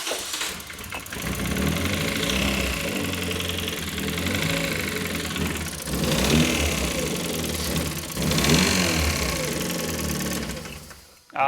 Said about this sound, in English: Right now, the engine does start.